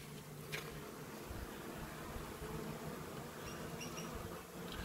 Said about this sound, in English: The bees are doing really well. Flying about quite nicely, actually.